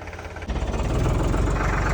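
A tractor engine starts up and settles into a steady, loud low rumble with rhythmic chugging pulses, running close by.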